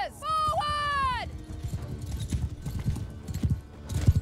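Cavalry horses gallop in a Mount and Blade Bannerlord battle, opening with a loud whinny and then a steady, rapid drumming of hooves, while voices shout orders over the charge.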